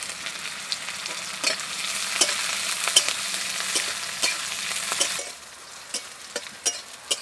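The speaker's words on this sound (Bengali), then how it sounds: "আমি এবার দিয়ে দেবো পেঁয়াজ কুচি, তারপর দিয়ে দেবো রসুন কুচি" Chopped onion and garlic fry in oil while a utensil stirs them, a continuous close sizzle broken by repeated scraping strokes; the hiss drops sharply near the end, leaving only a few isolated scrapes.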